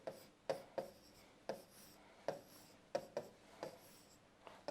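A pen writes a matrix by hand, tapping and scratching in quick, evenly spaced strokes, close and fairly faint, with no voices.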